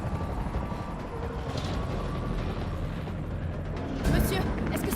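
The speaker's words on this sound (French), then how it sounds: "L'hélicoptère va vous conduire en lieu sûr." A helicopter hovers nearby during a rescue, its rotor producing a dense, steady churning rumble that fills the scene, with a sharper burst of noise near the end.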